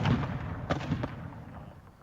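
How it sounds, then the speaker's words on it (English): Mortar and tank fire at night over Tikrit, with a dense rumbling barrage of distant booms and thuds under a constant roar, a couple of sharper blasts standing out. "Mortar and tank fire lit up the night sky over Tikrit."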